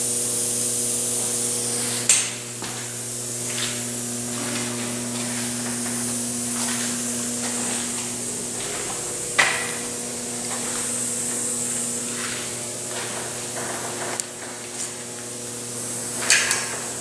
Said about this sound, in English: Going to get some primer on it